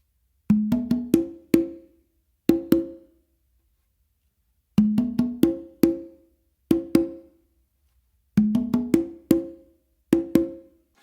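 Congas play a funk tumbao variation with open tones on the tumba, sharp resonant hand strikes in repeating phrases of quick clustered hits separated by short gaps, close and clear with no other sound.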